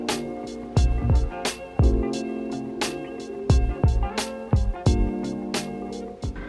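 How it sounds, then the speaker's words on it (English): Inkjet-style printer printing over Wi-Fi, heard alone as a run of mechanical clunks, thumps and whirring carriage passes at an irregular rhythm, fairly loud and close. "The printer is attempting to print."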